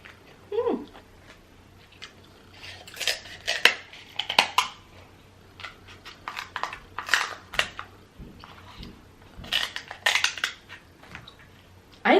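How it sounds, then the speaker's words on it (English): King crab legs being cut into with utensils give close, irregular bursts of cracking, crunching shell and metal clicks, scattered with quiet gaps between them. "I love the sound of cutting into king crab"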